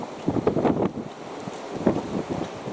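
Cold coastal wind buffets the microphone in uneven rumbling gusts, with cargo ships out on the water nearby; no one speaks.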